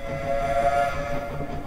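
Steam train in the video game Around the World in 80 Days, rolling along with a steady rumble under a sustained whistle-like tone that swells in the middle, with no voices.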